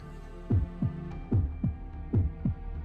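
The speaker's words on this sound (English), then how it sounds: "Is it just me, or does it sound like like the castle has a heartbeat?" A slow, heavy heartbeat pulses through a castle in Fate/Grand Order, six deep thumps in paired lub-dub beats over a low hum, with no voices.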